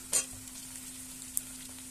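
Soft, quiet sizzle of tomatoes cooking in a pan with fried onions, with a brief spatter near the start and a low steady hum underneath.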